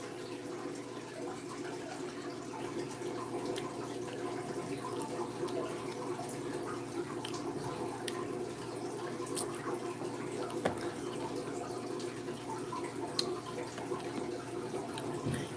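Water runs and trickles steadily in a fish tank, a low continuous burble with faint drips, close and fairly quiet, with no voices.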